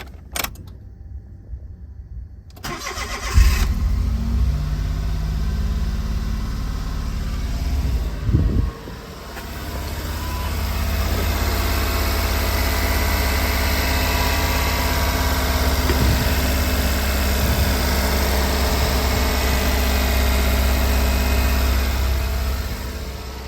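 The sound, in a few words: Honda Z car engine starting and idling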